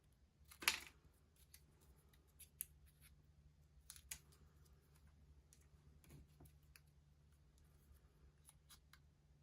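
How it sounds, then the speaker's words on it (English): Scissors snipping paper to cut out heart shapes for a square scallop border craft, a few sharp, close crisp snips spaced over several seconds against quiet room tone, one louder cut near the start and no talk. "I'm just going to cut out 2 of the ones that have hearts on them"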